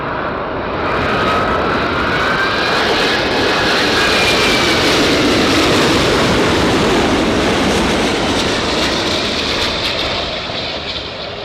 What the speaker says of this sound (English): I forget, is this the third A380 arrival we've had today?